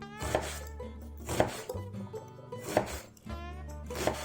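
An Opinel No. 9 carbon steel knife slices a large onion on a board, four distinct crisp cuts spaced about a second apart, close and fairly quiet, each with a hollow knock.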